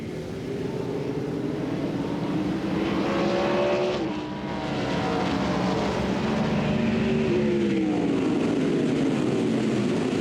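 A field of 2009 West series race cars takes the green flag at Portland International Raceway, their engines roaring together in a dense, rising and falling drone as cars sweep past at close range.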